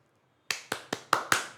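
Five sharp, evenly spaced claps ring out close by in a lecture class after quiet, each one short and snappy, sounding more like a single pair of hands than a full room.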